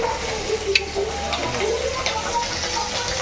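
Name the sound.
fish frying in a pan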